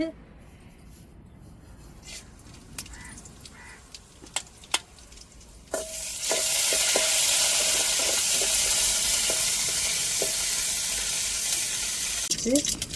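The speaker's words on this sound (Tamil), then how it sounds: "இப்போ இந்த வத்தலையும் கடுகையும் தாங்க நம்ம வச்சு தாளிக்க போகிறோம்" Quiet clicks and taps give way to a sudden loud sizzle as mustard seeds and chillies hit hot oil, crackling steadily.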